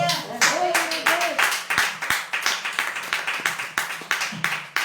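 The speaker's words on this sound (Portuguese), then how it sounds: "E as palmas louvam ao Senhor." A church congregation claps together in praise, in a steady rhythmic beat of sharp hand claps close by, with a voice speaking over the start.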